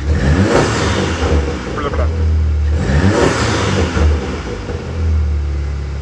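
Volkswagen GTI engine with a downpipe and resonator delete revving hard, a deep loud exhaust rumble swelling in repeated surges, close and steady throughout.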